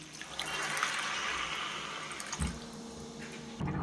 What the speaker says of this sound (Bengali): এবার আমি জল অ্যাড করে দেবো। এতে আমি 3 বাটি মতো জল অ্যাড করলাম।